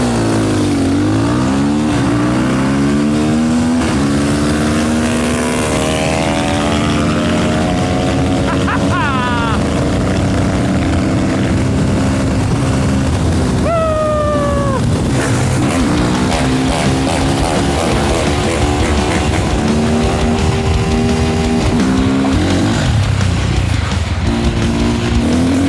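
A Sherco 500SM and a GASGAS 450SM supermoto motorcycle race side by side, their loud engines revving and shifting through gears continuously, with voices talking over the engine roar.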